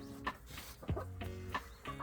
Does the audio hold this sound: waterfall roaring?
no